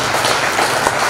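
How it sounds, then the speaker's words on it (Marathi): An audience at an International Day of Yoga event at a yoga and naturopathy college claps in a short, dense burst of applause that sounds fairly loud and close, with no talk over it. "तर त्या दोघांचंही टाळ्या वाजवून"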